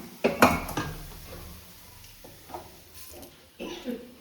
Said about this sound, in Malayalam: ഈ ചട്ടി എടുത്ത് വെച്ചിട്ട് മത്തി മുളകിടാൻ പോവുകയാണേ